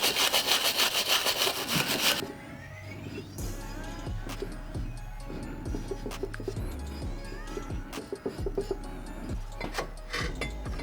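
Groove on a Ford Focus ST brake caliper carrier being cleaned, with a loud burst of rapid scraping at first, then quieter, intermittent scrubbing and knocks.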